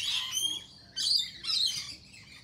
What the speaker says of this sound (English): There are some blue mountain parrots in my backyard.